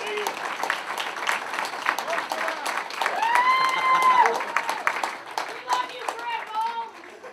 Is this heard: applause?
yes